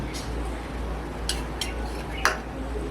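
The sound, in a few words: stirring ingredients for Maggi pizza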